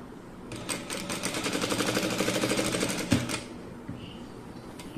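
A sewing machine stitches pieces of fabric in a steady rapid run of needle strokes lasting a couple of seconds, close and clear, then stops with a click and some light handling noise.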